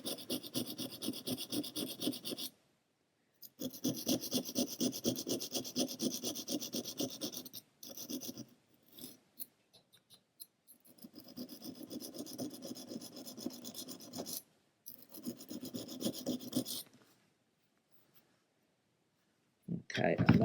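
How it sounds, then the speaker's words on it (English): Hobby chisel blade rubbed back and forth on a sharpening stone, producing rhythmic raspy strokes in several bursts separated by short pauses, close and fairly quiet. "Now let's deal with my chisel blade."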